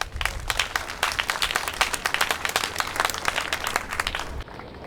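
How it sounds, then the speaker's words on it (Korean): An audience gives warm, sustained applause after a choir's performance at a memorial evening, dense clapping throughout that drops off abruptly near the end. "멋진 공연으로 행사를 빛내주신 분들께 큰 박수를 부탁드립니다."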